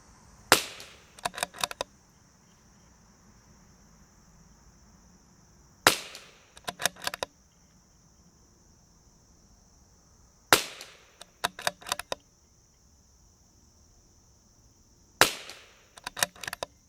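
A CZ 457 .22 rifle with a Criterion barrel, shooting Lapua long-range ammunition at a range. Four sharp, fairly close shots ring out at spaced intervals, each followed by small clicks and clatter of action cycling, with quiet between and no talk.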